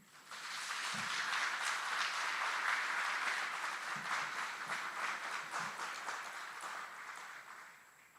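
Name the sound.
audience applause for drill sergeants and instructors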